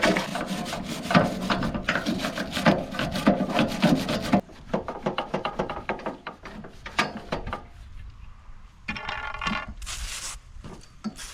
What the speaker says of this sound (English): I'm going to scrape before I spray anything on top of it.